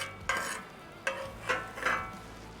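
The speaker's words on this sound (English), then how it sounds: "We're gonna get these off of the griddle." A metal spatula scrapes cooked onions off a hot griddle in four short scraping strokes. Each stroke is close, with a faint sizzle in between.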